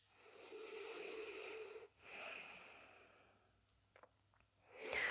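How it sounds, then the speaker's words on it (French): Slow, deep breaths during a yoga exercise, a long airy inhale easing into a softer exhale, then a quiet pause with a few small clicks before the next breath begins close and unhurried. "Et vous prenez quelques respirations là."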